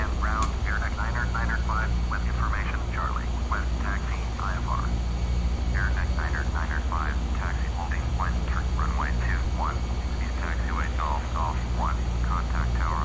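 A fixed-wing aircraft taxiing in the Prepar3D flight simulator game, a steady low engine drone running throughout, with a person talking continuously over it.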